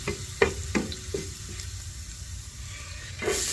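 Garlic sautéing in oil in a pan, a soft steady sizzle close by, punctuated by a few light clicks and scrapes of stirring early on and a brief louder hiss at the end.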